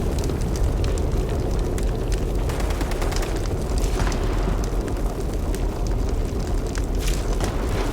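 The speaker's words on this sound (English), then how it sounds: "you can see where the fire is right on top of me. As it gets really close, you'll start hearing it singe on me." Fire in Fallout 76 Nuclear Winter crackling and roaring close around the player, a dense continuous rumble with scattered sharp pops throughout, steady and loud.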